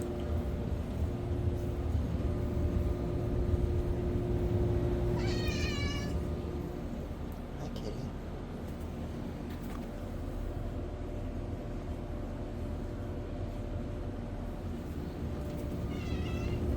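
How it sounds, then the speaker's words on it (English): Two faint cat meows rise above the steady loud hum of an air conditioner running for the first time in about half a year, one meow near the start and another near the end. "don't get deafened by the sound of the cat meowing"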